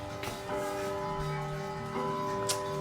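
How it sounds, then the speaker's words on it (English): A Westminster chiming clock in a home ticks steadily, faint and close, against a sustained tonal hum in the room. "It's a Westminster clock, like the Westminster Church."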